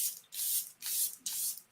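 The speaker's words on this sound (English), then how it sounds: "I'll probably go in and spray my face again because I'm hot" Three quick hissing bursts of setting spray misted onto a face, close and steady, each puff lasting about a third of a second with short pauses between.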